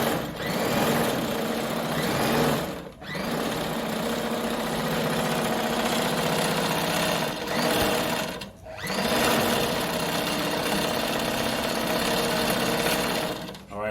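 A Brother model 345 sewing machine winding a bobbin, its motor whirring loudly and steadily in long runs, briefly pausing twice before starting up again.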